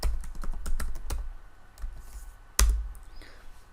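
A computer keyboard clacks as a short command is typed into a command prompt, a burst of quick close keystrokes, then a pause with a few scattered taps and one louder key press near the end, with no voices.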